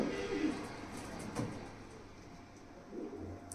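Pigeons cooing softly at a seller's loft, a few low murmuring coos heard faintly against background noise, with no talk over them.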